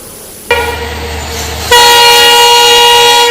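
A passenger train at a station in Abuja gives a loud, sustained horn blast over a low rumble, then the horn rises into a second, louder, continuous tone.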